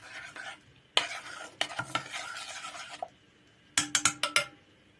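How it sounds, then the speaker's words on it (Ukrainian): A spoon stirs hot sugar with dissolved gelatin in a pot, making short scraping and clinking strokes near the mic, with a quick burst of rapid taps toward the end. "Розмішую, щоб желатин розчинився, поки цукор гарячий."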